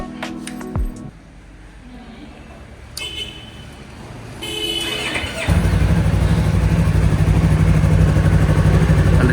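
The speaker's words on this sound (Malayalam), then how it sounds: "വണ്ടിയുടെ ആ ഒരു എക്സോസ്റ്റ് സൗണ്ട് ജസ്റ്റ് ഒന്ന് കേട്ടോ" A Yamaha R3 with a parallel twin-cylinder engine fires up after some clatter and settles into a loud, steady exhaust drone close by that continues to the end.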